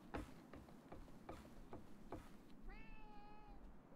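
A video game cat meows once, clear and close, a drawn-out tonal call near the end that follows a run of soft knocks and shuffling game sounds.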